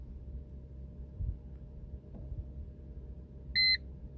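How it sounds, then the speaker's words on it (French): A single short electronic dashboard beep from a Mercedes A 170 CDI (W168) sounds near the end, clear and high-pitched, after several seconds of low engine-like rumble. "On a entendu un bip"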